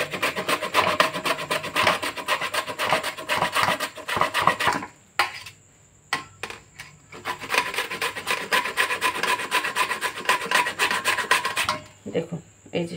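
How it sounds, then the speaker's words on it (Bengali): Elephant foot yam rubbed on a potato grater, a steady close rasping scrape with short pauses partway through. "দেখুন আমি ঘষে নিচ্ছি।"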